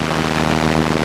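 A Cessna 172N single-engine propeller plane at full power on its takeoff roll, a loud, steady, droning engine and propeller roar heard from inside the cabin.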